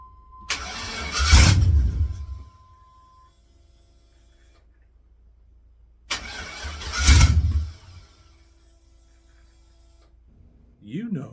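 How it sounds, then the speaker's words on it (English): A GM LS-swapped engine in an OBS truck cranks and briefly fires on a couple of cylinders, then cuts out as the VATS security system kills it, and the whole sequence happens twice with quiet gaps between the attempts. "You're going to crank that key, it's going to pop off, a couple cylinders are going to fire"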